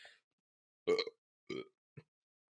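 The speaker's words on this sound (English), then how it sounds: "I gotta stop burping on pod" Three short, close burps, one deeper and longer followed by two briefer ones, sound in a quiet podcast studio with no talking in between.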